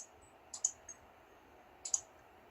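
A computer mouse clicks on a drop-down menu in a quiet room: a quick double click, a lone click soon after, then another double click about a second later, all sharp and close but soft.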